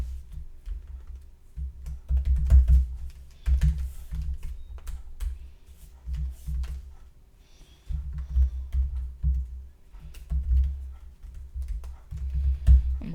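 Fingers type on a computer keyboard in irregular bursts of close, clattering keystrokes with short pauses between runs, while setting up a login screen for an iOS Swift app.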